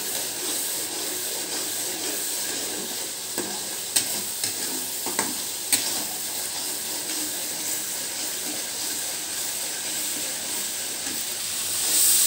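Spice paste for soto Madura fries in a pan, a steady close sizzle and hiss with a few soft stirring scrapes partway through and no talking.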